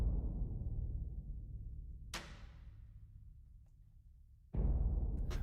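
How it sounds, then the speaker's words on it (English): Gran Casa bass drum from the Damage 2 library booms alone in deep, long-decaying hits, with a sharper strike in the middle and another heavy hit near the end. "And I also layered it with Gran Casa sound from Damage 2"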